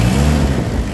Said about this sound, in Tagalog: Kahit galitin ng makina, hindi siya pumapalo ng sagad.